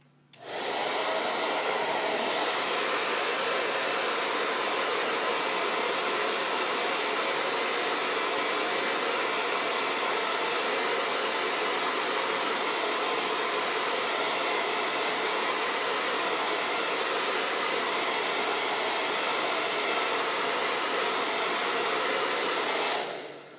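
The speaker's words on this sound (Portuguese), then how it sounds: "Vou ligar o secador aqui rapidinho, fazer um barulho aqui." A hair dryer blows steadily and loudly for over twenty seconds, a constant airy whoosh starting abruptly and cutting off at the end, alone without talk.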